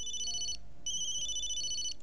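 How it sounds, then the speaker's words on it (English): A telephone rings in two bursts of electronic trilling, the second longer, with a short silence between; clear and close, no voices. "Colonel Ostankovich is on the phone."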